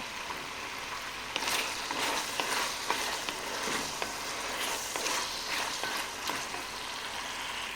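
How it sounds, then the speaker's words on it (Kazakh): Potatoes fry in a pot for borscht with a continuous close sizzle and repeated light scraping and stirring knocks throughout. There is no speech. "Екі-үш минуттай қуырылған соң картошкамызды саламыз."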